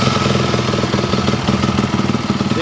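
A motorcycle engine, just started with the choke on, runs unevenly at a loud, close idle, a rough rapid chugging pulse that keeps faltering slightly in rhythm.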